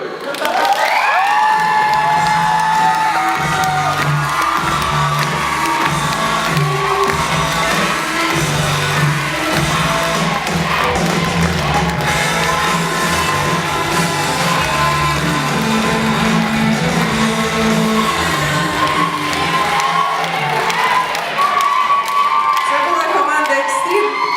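A KVN comedy show audience keeps up loud, continuous applause with cheering, whoops and shouts, a dense crowd roar filling the hall from start to finish, with a voice calling over it.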